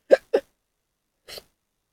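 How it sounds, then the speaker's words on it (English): A person hiccups twice in quick succession, then once more about a second later, each sharp and close in an otherwise quiet room. "Now the hiccups set in."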